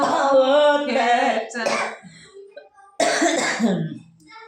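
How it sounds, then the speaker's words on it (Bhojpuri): A woman coughs and clears her throat in short rough bursts between stretches of her own voice, sounding close and fairly loud. "ये खांसी आने लगी"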